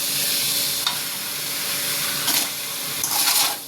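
Tomatoes sauté in a pan with salt, turmeric and chilli powder for Tamil-style thakkali thokku, giving a constant close sizzle and hiss broken by occasional scraping stirs.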